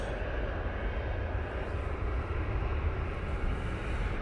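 A Jet2 Boeing 737-800 airliner at Manchester Airport gives a steady, broad jet-engine roar at moderate distance, unbroken and with no talk.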